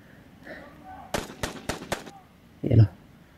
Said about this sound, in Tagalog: Paputok sila.